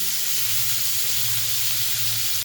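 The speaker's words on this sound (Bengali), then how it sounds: "টমেটোটা নাড়বো চাড়বো, একটু নাড়তে থাকি" Tomato frying and being stirred in a pan, a loud continuous sizzle and hiss with a low steady hum underneath, no talk, cut off abruptly at the end.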